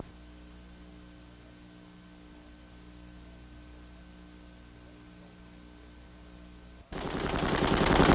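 An aircraft Gatling gun such as a Vulcan or minigun opens fire after a long stretch of low steady hum. The sudden loud, continuous roar of rapid fire lasts through the final second.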